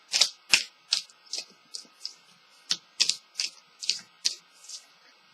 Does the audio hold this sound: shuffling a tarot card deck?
yes